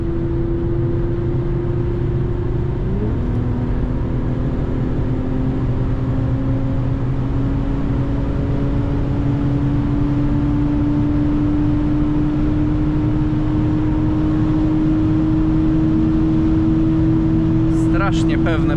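A 2016 Infiniti Q50s AWD with a 364-horsepower engine pulls hard on the road, its engine note climbing steadily in pitch through a long acceleration, with a brief shift near the start and a continuous interior drone.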